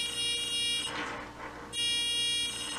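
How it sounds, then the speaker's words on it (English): A small buzzer powered by a solar panel in a simple circuit with a light bulb sounds as a steady electronic tone. It stops for nearly a second midway, then resumes at full strength. "There's the light bulb and the buzzer."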